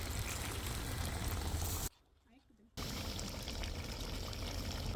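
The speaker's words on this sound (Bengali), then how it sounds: "এখন আমি পরিমাণ মতো পানি দিয়ে দেবো" Water pours steadily into a pot of duck meat curry, a loud continuous rush that stops for a brief pause and then resumes until the end.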